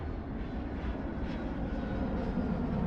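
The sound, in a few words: airplane taking off in video game Mini Airways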